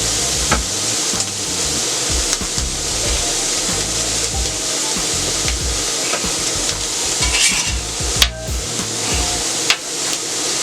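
Onions and carrots scraped, tossed and seasoned on a steel flat-top grill, giving a steady busy rasp of spatula on metal with low sizzling throughout and a couple of sharper clanks near the end, no talking.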